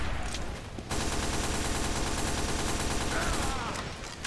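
Team Fortress 2 gunfire with a critical hit shot: a dense, loud, continuous volley of shots starts abruptly after a short lead-in and runs steadily to the end, with no clear voices.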